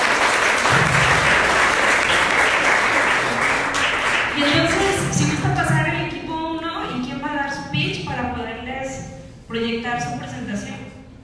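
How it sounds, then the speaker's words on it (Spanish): Audience applause at an AI Saturdays demo day event in Guadalajara, dense and loud at first, then thinning out as a presenter begins speaking over the fading claps. "Le damos una aplauso, por favor."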